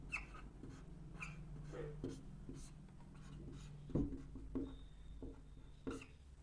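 Chalk or marker scratching across a board in short strokes with pauses during a Class 10 maths lesson on real numbers, faint and close, with soft breathing and bits of speech nearby.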